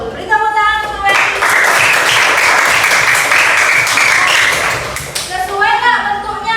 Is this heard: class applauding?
yes